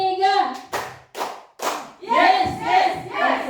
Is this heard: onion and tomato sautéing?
no